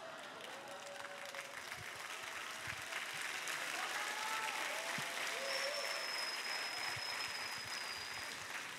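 Steady applause from a large audience gathered at a summer church camp session, a dense continuous wash of many hands clapping at moderate distance with a faint tone and no talking.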